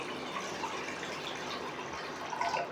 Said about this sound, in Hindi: जी मैंने 2 गिलास पानी डाल दिए।